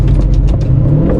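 A 2018 Aston Martin DB11 V8 in Sport Plus mode gives a loud, steady, close engine roar with a deep rumble, heard alone without talk.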